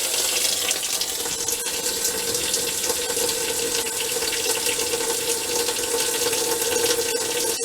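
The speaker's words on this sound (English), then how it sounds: "And this faucet is open, wide open." Water runs from a wide-open faucet fed by a Vevor 8KW tankless water heater, a steady, loud hiss of flow that holds unbroken throughout with no talking.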